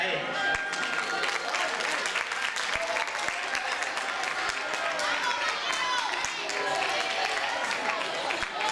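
A packed school hall at a Christmas festival breaks into dense, sustained applause, many hands clapping at once with a busy crowd murmur and voices mixed underneath.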